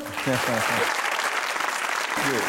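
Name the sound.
studio audience applause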